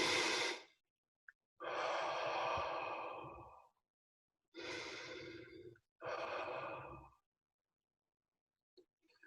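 Slow, audible breaths during a quiet meditation, four long exhales and inhales in an even rhythm separated by silent pauses, close and soft.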